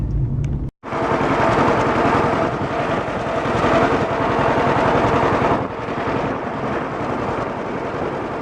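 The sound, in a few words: tractor engine exhaust running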